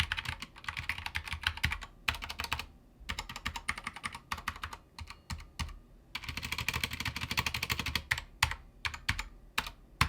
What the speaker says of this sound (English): It has tactile get around brown switches that sound really nice